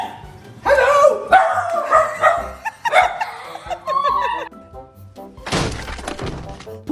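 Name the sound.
dog barking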